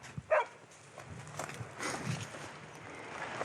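A hunting dog on a pig hunt in rough New Zealand country makes a short yelp or bark, followed by movement through brush and footsteps, moderately distant and fairly faint.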